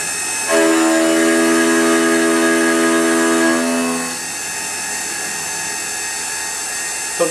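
Tormach PCNC440 CNC mill spindle running at 5,000 RPM, a loud steady tonal whine with strong harmonics that starts abruptly, holds for about three seconds, then winds down and fades into a quieter hum.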